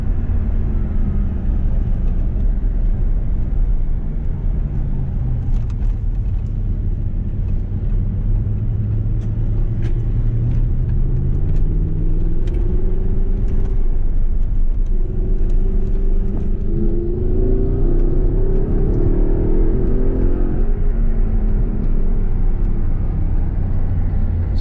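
An Audi R8 supercar drives around cones with a loud, continuous close engine drone inside the cabin, its pitch sweeping up and down as it accelerates and slows through the turns.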